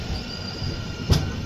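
The Tirumala Express passenger train, running from Tirupati to Visakhapatnam, heard from on board near a station as a steady low rumble with a single sharp metallic clunk, and no talk.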